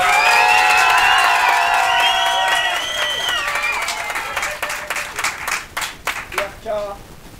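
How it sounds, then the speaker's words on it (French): Studio audience acting as a public jury in a French televised mock trial applauds to vote on a verdict, with cheers and whoops over dense clapping that gradually thins into scattered claps; vocal tones ring through at the start. "Public, jury, applaudissez si vous pensez"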